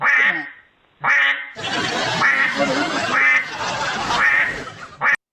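A duck quacks loudly and repeatedly, in bursts of raspy calls with short gaps, close by and without any talk over it.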